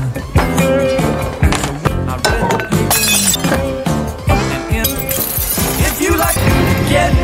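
Glass shatters into shards in a film scene, dense crashing and tinkling impacts packed over several seconds, loud and close, mixed with other scene sounds and music.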